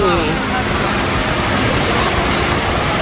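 The indoor waterfall at Jewel, Singapore pours down as a loud, constant roar of rushing water. It fills the whole stretch without a break, with a bit of faint talk in the background.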